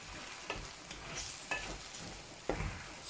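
Butter melting and sizzling in a pan with mushrooms, a steady close fry broken by a few regular stirring scrapes about once a second.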